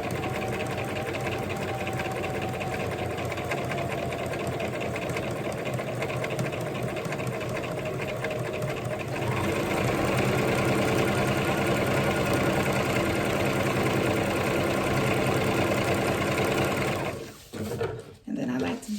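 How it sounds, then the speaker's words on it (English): A sewing machine runs a continuous straight stitch along ruffle socks, a close, steady mechanical whir that shifts slightly in pace partway through and stops abruptly near the end. "we're just gonna do a straight stitch all the way down"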